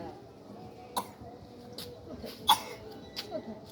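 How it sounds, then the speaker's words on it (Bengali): A few short, soft coughs spaced about a second apart against a quiet room background. "কাশি উঠে গেছে।"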